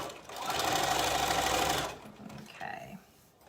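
Sewing machine stitching a row on a layered summer skirt, a close, steady whirring run of about two seconds that then stops, followed by brief faint handling sounds.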